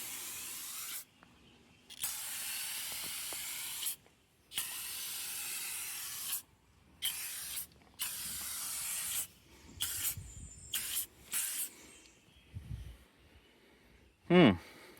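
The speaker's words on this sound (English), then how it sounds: "let's go ahead and start spraying" Repeated bursts of aerosol tire shine spraying, close and hissy, separated by short pauses, then softer handling noises and a brief thump near the end.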